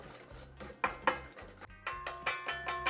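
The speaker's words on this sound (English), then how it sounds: "And then just whisk all of this by hand." Chocolate mixture is whisked by hand into egg in a bowl for brownie cookies, a brisk run of rhythmic metallic clinks and scrapes against the bowl, close and busy.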